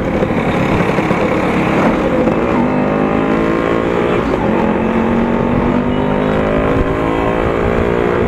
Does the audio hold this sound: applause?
no